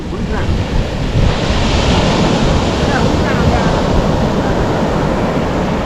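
Deep-sea ocean surf rolls steadily onto a shore, a loud continuous roar of breaking waves mixed with heavy wind buffeting the microphone.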